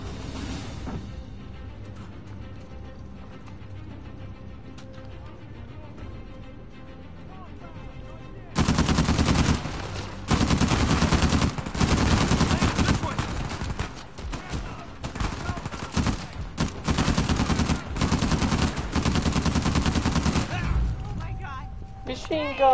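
Sustained machine gun fire rattles in long loud bursts during an Uncharted 4 firefight, starting after a quieter stretch and continuing almost nonstop with short gaps.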